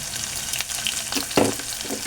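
Green chillies, curry leaves and turmeric frying in hot oil in a pan, a dense continuous sizzle with a few brief stirring clinks and scrapes, close and steady.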